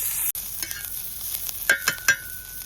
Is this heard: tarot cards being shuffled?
no